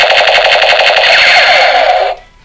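Broken toy Nerf gun firing: a loud, rapid mechanical rattling buzz held for about two seconds, close to the mic, then cutting off abruptly.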